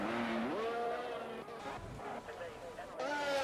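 A Mercedes race car in a racing video game set at a Saudi Arabia round, its engine note climbing and dipping through gear changes, loud and close, with commentary voices talking over it throughout.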